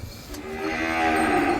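A single cow moos close by, a drawn-out, rising low call lasting about a second, among cattle being judged for the Tarnetar fair.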